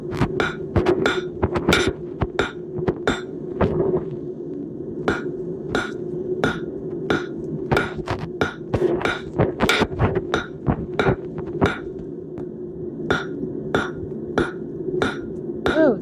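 A hammer strikes hot steel on an anvil while forging the taper of a straight bottle opener, ringing in a steady series of sharp, close, metallic blows with brief pauses between runs, and no voices.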